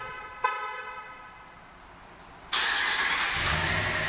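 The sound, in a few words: pickup truck remote start engine and horn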